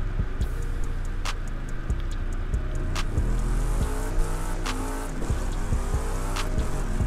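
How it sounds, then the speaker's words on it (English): In The Crew 2 racing game, a car's engine roars continuously with wheels spinning and tires squealing, a loud sustained drone with sharp ticking and clicking transients scattered throughout. "Too much power when your wheels are just spinning off"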